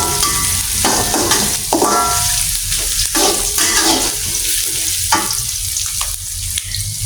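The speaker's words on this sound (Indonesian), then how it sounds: "Ditumis sampai wangi ya." Chopped garlic and shallots sizzle and crackle in hot oil in a pan, a steady frying hiss broken by repeated stirring scrapes and bursts of spitting; no one speaks.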